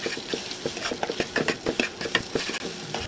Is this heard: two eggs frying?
yes